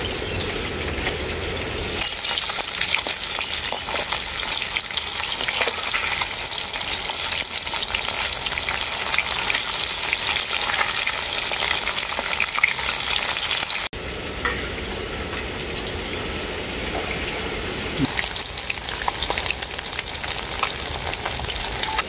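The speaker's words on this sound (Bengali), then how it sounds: "মাছটার দু পিঠটাই আমি পাল্টে পাল্টে ভেজে নিয়েছি" Bata fish sizzles steadily in hot oil in a pan, with a dense continuous crackle and spatter. A brief dip comes midway, then the frying carries on close and fairly loud with no voices.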